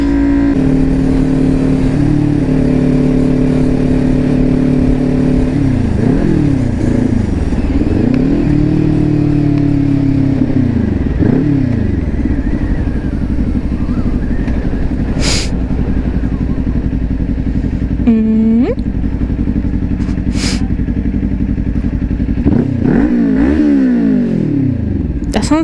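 A motorcycle engine revving and downshifting: a steady drone rises and falls through several sweeping revs, then a sharp blip and a deep downshift, loud and close throughout with no talk over it.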